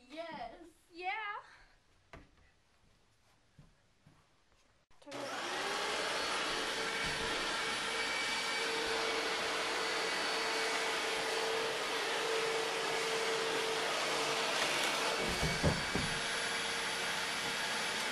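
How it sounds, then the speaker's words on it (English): A vacuum cleaner switches on partway through and keeps running as a loud, steady whine and roar, after brief talk and laughter at the start. "Let's vacuum."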